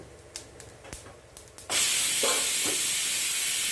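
Mustard seeds, cumin and fennel fry in a hot clay pot, a sudden loud steady hiss and spray bursting in after a few faint taps, with a couple of brief pops inside the roar.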